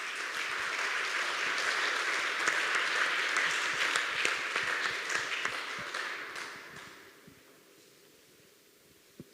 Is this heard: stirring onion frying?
no